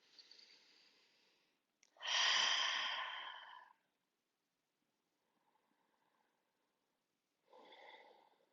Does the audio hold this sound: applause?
no